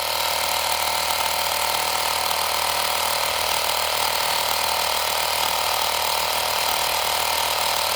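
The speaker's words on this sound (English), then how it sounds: "we have the air compressor. Wired up to the battery." A battery-powered air compressor, wired to a 1977 Pontiac Trans Am's battery, runs continuously with a loud, close, steady rattling mechanical buzz and no talking.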